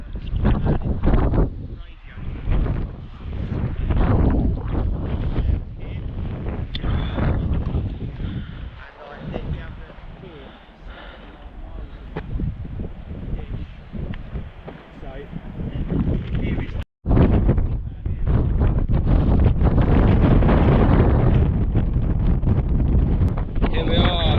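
Strong, gusty wind roars across a hillside campsite on the North Downs Way near Dover, buffeting the microphone in a loud, continuous rush that briefly cuts out and then returns.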